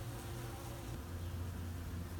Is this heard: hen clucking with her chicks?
no